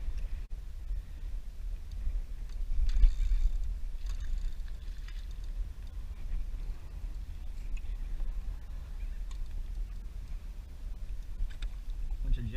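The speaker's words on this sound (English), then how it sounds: "Bunch of jet skis around." Jet skis run nearby on open water off Key Largo during tarpon fishing, a steady low engine drone with a slight swell around the three-second mark, heard alone over wind and water.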